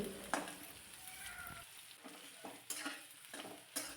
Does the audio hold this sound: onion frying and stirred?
yes